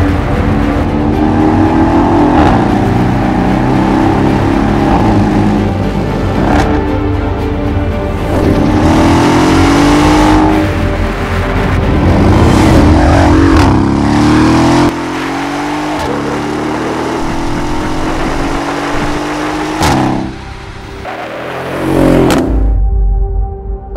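A Mercedes-AMG S63 fitted with an Akrapovic lightweight exhaust revs loudly and continuously, with rising and falling engine pitch sweeps, repeated throttle blips and a deep burst near the end, no voices.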